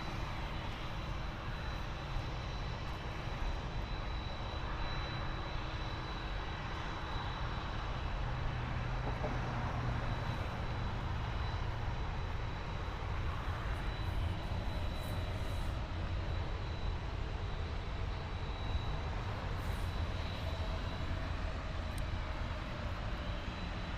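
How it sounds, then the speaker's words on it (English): A WestJet Boeing 737 jet departing Toronto Pearson airport, a steady broad engine roar held at a distance throughout, with no talk over it. "We have a WestJet 737 on its way to Tampa, Florida."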